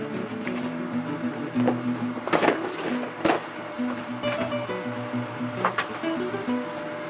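A sewing machine stitches the bottom of a roll-up backpack in short bursts of mechanical whirring, separated by pauses and sharper handling clicks, all fairly close and moderately loud.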